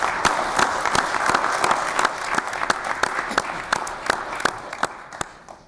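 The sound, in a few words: county board meeting applause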